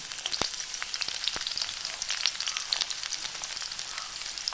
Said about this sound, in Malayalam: പച്ചമുളക് സവാള കേട്ടോ വറവിടുന്നത്